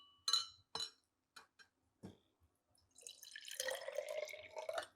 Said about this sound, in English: Okay, we're gonna pour it.